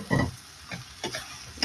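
Cubes of paneer drop into a frying pan of cooked green peas, giving a few soft, separate thuds and brief sizzles, close and fairly quiet.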